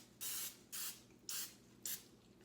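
Cooking spray containing flour is sprayed into a baking dish in four quick, close hissing bursts at an even rhythm, with short quiet gaps between them.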